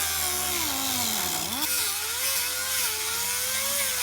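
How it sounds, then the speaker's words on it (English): Die grinder with a 3-inch 40 grit sanding disc grinding a freshly cut steel edge on a rusty Toyota pickup truck frame: a loud, continuous high whine that bogs and recovers under load, close-up, no talking. "I'm going to use this 40 grit disc to clean up the edge I just cut."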